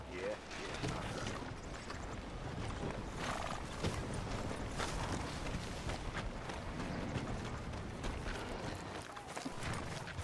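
Horse hooves clip-clopping at a riding pace in Red Dead Redemption 2, a steady rhythm running under continuous game ambience, with occasional whinnies and faint voices.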